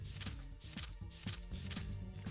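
Card shuffling rings out during the Shuffle Time sequence in Persona 3 FES, with rhythmic repeated swishes and game music underneath, moderately loud and continuous.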